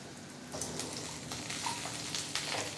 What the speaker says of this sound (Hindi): यहाँ हमें फ्लेम को हाई करना है और बस इन्हें 1 से 2 मिनट फ्राई करना है